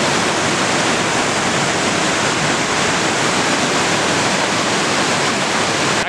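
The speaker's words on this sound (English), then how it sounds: "Made it to where the water comes out of nowhere." Water gushing out of rock on a hiking trail at the Walls of Jericho in Alabama, a loud, steady, broadband rush heard up close with no talking.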